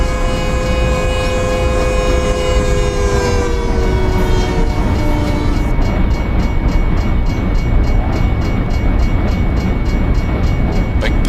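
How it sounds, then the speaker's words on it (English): A big passenger train passing a level crossing in Euro Truck Simulator 2, its horn sounding a long sustained blast that fades out, followed by a loud continuous rumble and rhythmic wheel clatter. "Big passenger train this time."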